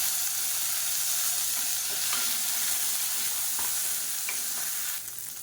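Garlic cloves and small slit green chillies fry steadily in hot oil in a pan, a continuous loud sizzle with faint stirring scrapes, no talking.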